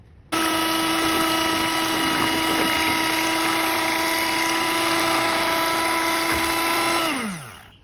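A steady electric mixer whirs as it blends ube with condensed milk, a constant motor hum starting abruptly and running alone for several seconds before winding down at the end.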